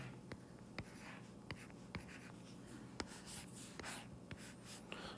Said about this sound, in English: This pencil doesn't want to write.